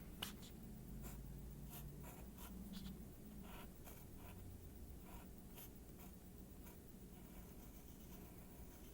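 Pencil scratching across paper while drawing a small person inside a hot air balloon, a steady run of light strokes and quick ticks close up with no voices.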